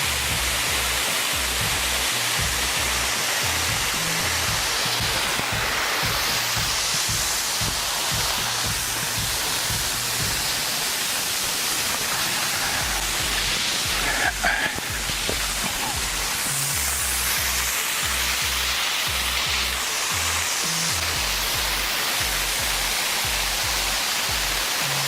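A waterfall in Mableton, a constant loud roar of falling water, with faint low knocking or thudding sounds underneath at times.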